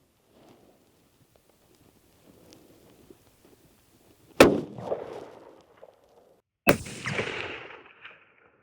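Two loud rifle shots firing Hornady 143 grain ELD-X rounds at a 1,000-yard target, each a sharp crack followed by a rolling echo, spaced a few seconds apart after a stretch of quiet.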